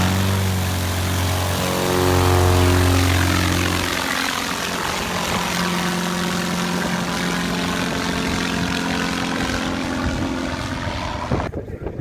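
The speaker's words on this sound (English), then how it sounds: "This is probably the shortest takeoff you will ever witness." A propeller airplane making an extremely short takeoff, its engine droning loud and close, then rising and fading slightly as it lifts away, with a sudden rustle near the end.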